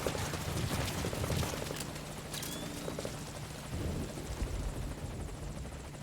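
A helicopter flies in Metal Gear Solid V: Ground Zeroes, a steady rhythmic rotor thump with a broad whooshing roar, fairly loud and continuous, with no voices.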